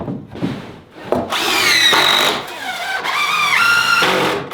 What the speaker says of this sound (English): I'm gonna give you grinder